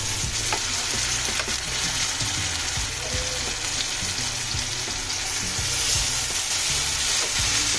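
Marinated chicken fries lightly with onions in a little oil for a chicken masala curry, a loud close sizzle with frequent spoon scrapes and clatter throughout.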